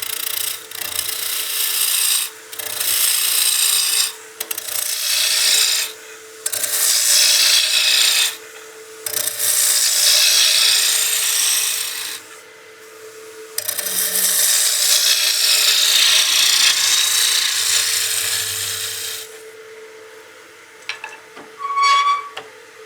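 A wooden baseball bat being shaped on a lathe with a spindle steady, the tool rasping against the spinning wood in long, loud passes broken by short pauses, with no talk.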